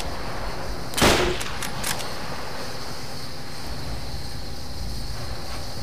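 A single sharp, loud gunshot from Call of Duty: World at War on the Wii cracks out near the start. Two fainter shots follow shortly after, then a low steady background hum carries on alone.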